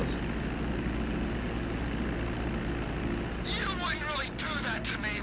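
A steady, droning aircraft engine hums continuously as a plane flies in the video game GTA 5, with a voice chattering over the last couple of seconds.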